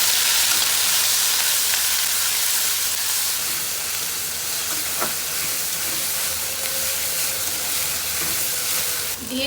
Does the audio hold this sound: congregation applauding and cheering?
no